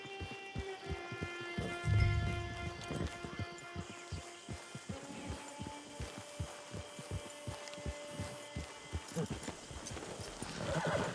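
A horse's hooves clip-clop at a steady walking rhythm in the Red Dead Redemption 2 Online game. The even, close thuds repeat over quiet background music, with a brief snort or whinny near the start.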